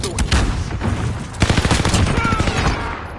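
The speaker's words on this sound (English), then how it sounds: "Shooting at me." Rapid gunfire in the battle royale game Call of Duty Warzone, with dense overlapping shots and bursts. It is loud and close and runs through the whole clip, with a voice talking faintly underneath.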